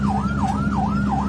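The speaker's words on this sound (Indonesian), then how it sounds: "Padahal ambulans sudah membunyikan sirine cukup kencang dan melaju di lajur kanan." An ambulance siren wails loudly on a road in Salatiga, Central Java, its pitch rising and falling in a steady repeating cycle over a low engine rumble, with no voices.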